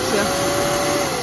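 A VD-2 vacuum cleaner switched on for testing in a Leroy Merlin hardware store gives a steady, loud, single-speed motor whine with a constant high tone.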